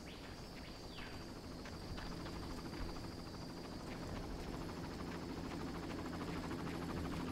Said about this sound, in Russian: Так, теперь понимаю то, что бессмысленно стрелять в этот вертолет, блин.